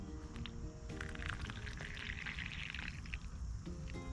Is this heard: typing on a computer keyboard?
no